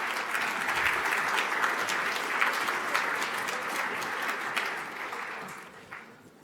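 A conference audience at the RightsCon Brussels 2017 opening ceremony applauds as a panel comes on stage, dense sustained clapping that stays steady and then fades away at the end.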